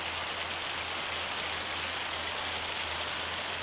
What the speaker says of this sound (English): Can't believe we're working in the rain.